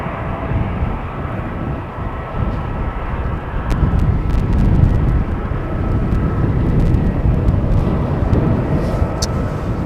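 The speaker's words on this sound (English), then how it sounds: "I can see a Singapore Airlines A350 taxiing towards the threshold" Singapore Airlines Airbus A350 taxiing at Amsterdam Schiphol, a steady low jet-engine rumble with faint wind noise, moderately loud and continuous throughout.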